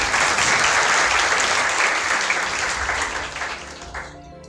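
Applause from the audience at a student honour ceremony in Bhopal: dense, steady clapping from many hands, moderately loud and sustained, fading slightly toward the end with no talk over it.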